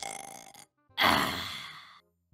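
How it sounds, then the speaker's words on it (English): A single long, loud burp in a Minecraft roleplay, rumbling for about a second right after a brief vocal sound and a short gap. "A burp."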